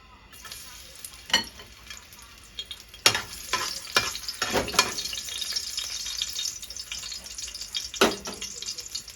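Morning glory is stir-fried in a hot pan over high flame, giving a steady close sizzle broken by sharper hisses and scrapes as the greens are tossed. No one speaks.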